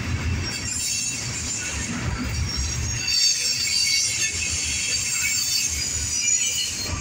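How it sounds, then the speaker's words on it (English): An eastbound Norfolk Southern Herzog work train and a southbound CSX intermodal autorack freight pass together, with continuous rolling rumble and high metallic wheel squeal throughout, loud and close. "there goes our eastbound Norfolk Southern Herzog train and our CSX southbound intermodal autorack"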